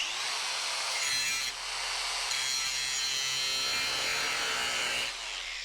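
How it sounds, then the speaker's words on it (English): DeWalt angle grinder with a cutoff wheel biting into a thick piece of metal, a loud continuous harsh grinding hiss with a brief dip in load partway through, near and without talk. "there's a pretty thick piece of metal here, and that's what I'm going to grind"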